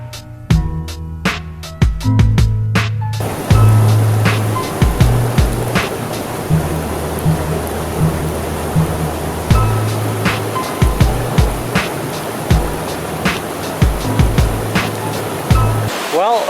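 A sulfur hot springs waterfall in the Philippines near Bacolod, a steady loud rushing roar of falling water filling the scene, with scattered knocks and a few brief tonal sounds early on.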